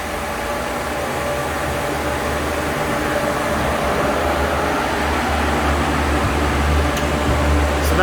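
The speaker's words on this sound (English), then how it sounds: "I'm just gonna turn these fans back on and then exit this room." Large 20-inch drum fans, including a DeWalt unit, run steadily to cool a cryptocurrency mining rig of GPUs on risers in a small room, giving a constant, loud broadband whoosh with a low hum throughout.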